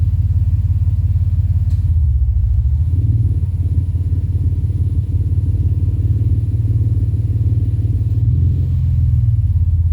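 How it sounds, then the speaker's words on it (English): A car engine idles with its VTEC variable valve lift forced on, a loud, close, steady low rumble with a slightly uneven throb and brief rises in pitch, no talk. "you ever wondered what VTEC sounds like at idle?"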